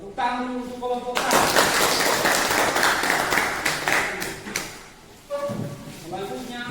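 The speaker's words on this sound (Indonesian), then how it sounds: "Tepuk tangan dulu untuk kelompok 1." A classroom of students bursts into applause for group 1, a loud, dense burst of clapping lasting about four seconds, with a teacher's voice heard briefly before and after.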